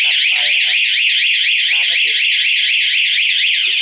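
Anti-theft alarm on a Honda MSX motorcycle wailing loud and close, a continuous warbling electronic siren rising and falling rapidly, with someone speaking over it at times.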